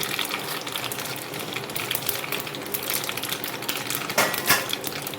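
Mustard seeds, cumin and a pinch of asafoetida crackle and sizzle in hot oil for a Gujarati dal tempering, a dense steady hiss with sharp popping spikes near the end, close and fairly loud.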